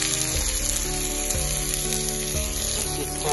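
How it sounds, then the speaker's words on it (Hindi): Eggplant slices frying in oil in a pan, a continuous close sizzle with faint crackles and bubbling throughout, with no voices. "इसको हमें फ्राई करना है अच्छे से"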